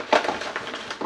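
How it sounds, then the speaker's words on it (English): Kitchen garbage drawer pulled open, a brief wooden scrape and clatter with a couple of quick knocks, close by and over in about a second. "that sound you hear, that is me opening up the garbage drawer that I have right in front of me"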